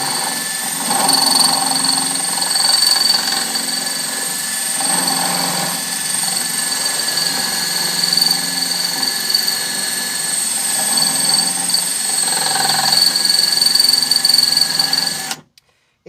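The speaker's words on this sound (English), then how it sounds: "That's why you see me changing the pitch of the drill here." A power drill bores steadily into the metal body of an Astro van, its motor holding a continuous high whine for about fifteen seconds before cutting off abruptly.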